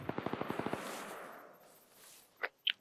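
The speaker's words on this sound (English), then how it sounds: "Sounds like a coaxial from a vehicle from the south." A vehicle's coaxial machine gun in ArmA 3 rattles off a quick burst of about nine evenly spaced rounds from the south, followed by fading echo and a couple of sharper distant cracks.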